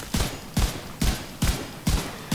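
Gunfire in the video game The Division 2: five loud, evenly spaced heavy shots about half a second apart, each with a booming low thump and a short decaying tail.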